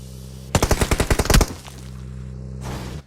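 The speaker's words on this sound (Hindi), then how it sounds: "तुरंत गोलियां पड़ती हैं," Automatic gunfire in the BGMI mobile battle royale game: one rapid burst of about ten loud, evenly spaced shots lasting roughly a second, followed by quieter game ambience.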